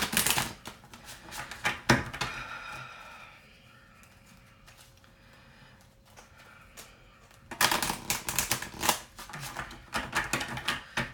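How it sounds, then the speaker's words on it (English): Tarot cards are shuffled and pulled in bursts of rapid papery riffling and flicking, close and fairly loud, with a quieter gap between two busy stretches and no talking. "Let's just pull some more cards here for future situation."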